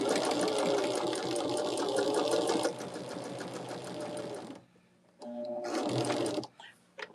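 A sewing machine stitches quilt block pieces together, running in steady fast close bursts with a dense mechanical whir, pausing briefly, then starting again for short runs.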